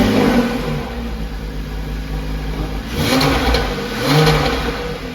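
A Porsche 997.1 Carrera 4S fitted with a 200-cell X pipe exhaust sits running close by, idling steadily with two short revs swelling above the idle. No one speaks.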